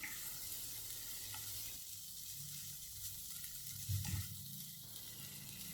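Beaten eggs for an omelette frying in a pan, a quiet steady sizzle with a brief louder spatter and clatter midway.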